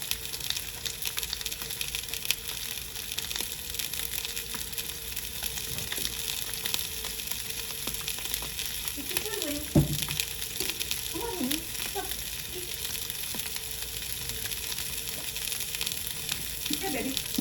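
Salmon sizzles and fries in a pan on a home stove, a steady bright hiss throughout, with brief scraping clatter and a short murmur of speech partway through.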